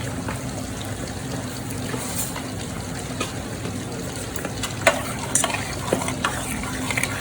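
Soft scraping and occasional clinks of stirring as spices are mixed into a fish fry sauce with apricots in a pan, over a steady low sizzle, close and fairly quiet.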